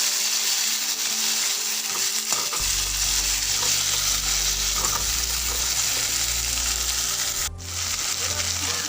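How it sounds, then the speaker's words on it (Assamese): Finely chopped tomatoes fry with garlic in a hot pan for egg curry, giving a steady close sizzle under stirring and scraping, while a low hum of a stove or fan joins partway through. "এতিয়া সৰুকৈ কাটি লোৱা বিলাহীখিনি ভাজি ল'ম"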